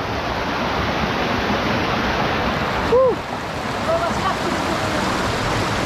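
Waterfall at Ataki River in Tuba, Benguet roars as a dense, steady rush of falling water, close and loud throughout, with a brief voiced exclamation breaking in midway.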